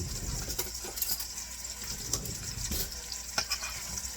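A big sauce spoon scrapes and clinks against a pan as meatballs are gently turned, soft metallic taps and stirring rasps over a steady low sizzle, close and moderately loud.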